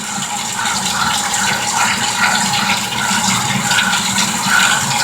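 Cold water runs steadily from a tap with a continuous gushing, splashing flow at an even, fairly loud level and no talk.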